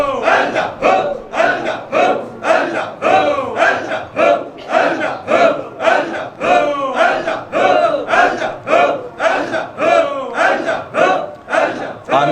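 A large crowd at a religious gathering chants loudly in unison, repeated rhythmic shouts filling the whole stretch with no pauses, close and energetic.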